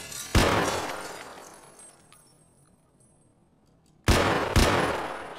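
Gunshots in the video game Escape from Tarkov: a sharp close shot, a second following soon after, a quiet stretch, then another pair of loud reports.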